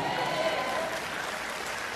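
A church congregation at an El Shaddai worship gathering applauds, a steady wash of clapping from many hands filling the hall at a constant level, with no clear voices over it.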